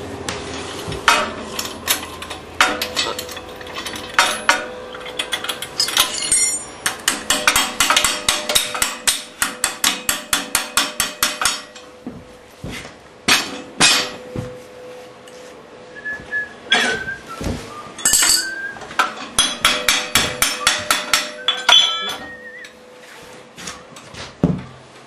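Repeated sharp hammer strikes ring out in quick bursts while building a pottery filter press, close and loud, with pauses between rounds of tapping.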